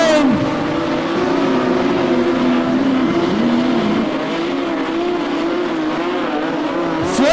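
Modified production race cars thunder around the Lismore Speedway track at night, engines roaring loud and continuous with pitch rising and falling as they pass, tyres squealing briefly.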